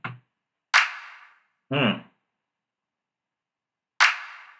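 A short, sharp sampled clap from a beat in Pro Tools sounds a few times with uneven gaps between hits, each crisp with a quick decay, alongside one brief tonal blip and silence between.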